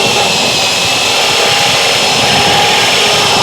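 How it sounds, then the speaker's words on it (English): Loud, continuous high-pitched grinding of a hole saw on a power drill cutting through metal, unbroken and close throughout. "Pilot bit, and then drill a hole through the metal."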